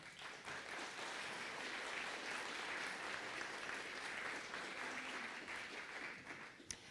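A keynote audience at a teaching-technology conference bursts into steady, sustained applause to welcome a speaker to the stage, with dense clapping holding for about seven seconds before tapering off.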